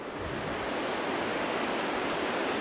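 The Alaknanda river flows near Badrinath in the Himalayas, a steady broadband rush of water that fills the whole clip, loud and constant with no voices.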